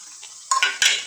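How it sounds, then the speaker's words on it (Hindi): Bread pieces fry in a pan for Shahi Tukrey, giving a steady broadband sizzle with two sharper bursts of metal clatter from stirring near the middle and end, close and moderately loud. "अब हम इसमें डालेंगे हमारे बाकी के ब्रेड पीसेस और इन्हें भी अच्छे से फ्राई होने तक"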